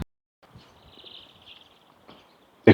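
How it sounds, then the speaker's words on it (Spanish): Small birds chirp and sing faintly in the open air beside the old walls of a castle in Seville, a thin high twittering that rises briefly and fades, with a few soft knocks and rustles nearby. "Sí se escuchan los pajaritos, ¿no?"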